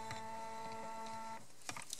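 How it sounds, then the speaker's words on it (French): Phomemo M02 thermal printer printing, a steady whirring motor hum with a faint tonal whine that stops partway, followed by a few soft clicks. "Et ça nous imprime tout ça."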